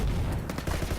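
The Rattlesnake machine pistol in the shooter game Ballistic fires a rapid, continuous burst, loud and close, with dense overlapping shots and no talking.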